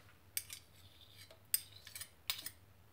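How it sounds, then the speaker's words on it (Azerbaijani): A spoon clinks against a pan while sour cream goes into an onion sauce for economical potato, carrot and meat cutlets, giving a few sharp, close metallic taps and scrapes over a quiet background. "Bir xörək qaşığı smetana əlavə edirəm."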